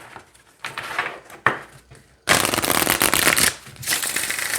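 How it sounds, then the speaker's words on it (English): Quick riffling of a deck of oracle cards, a few short flicks followed by two longer bursts of papery shuffling close by. "All right, let's see how it shuffles."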